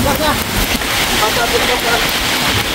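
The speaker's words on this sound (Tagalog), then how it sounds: "Lakas ng hangin." Steady, dense rush of typhoon wind and rain noise, loud and continuous throughout, with a faint voice in the background.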